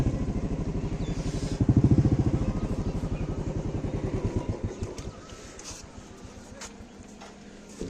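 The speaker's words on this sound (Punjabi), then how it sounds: "ਪਹਿਲਾਂ ਮੋਟਰਸਾਈਕਲ ਖੜਾ ਕਰ ਦਈਏ" A motorcycle engine idles nearby with a steady low putter, revving briefly before it winds down and cuts off, leaving faint clicks and background noise.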